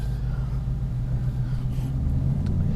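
A car drives along narrow country lanes with a steady low engine rumble and road noise from inside the cabin, an unbroken drone with no talk over it.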